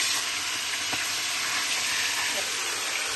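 Meat and fish being turned over and seared in a hot pan for a peanut sauce dish give off a steady, close sizzle and hiss that runs evenly throughout.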